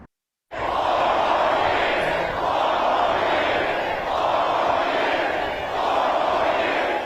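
A large, enthusiastic crowd cheers the president at a chilly, windy October 2020 rally, a loud sustained roar of many voices swelling in waves, heard from within the crowd without pause.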